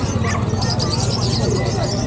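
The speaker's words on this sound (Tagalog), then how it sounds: "Ito, ang dami aso." Dogs yip and bark intermittently in a noisy outdoor setting, partly masked by overlapping voices and general bustle.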